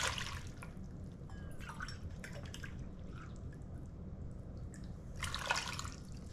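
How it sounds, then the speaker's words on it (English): Two cups of water are poured into a pot for cooking purple pickled eggs and hot dogs, heard as faint trickling and sporadic dripping splashes over a low background hum. "I'm gonna add 2 cups of water."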